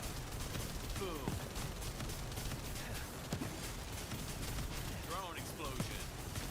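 Drone explosions in a sci-fi shooter video game, a few sharp blasts and bursts of gunfire mixed into dense, continuous combat noise with talking over it.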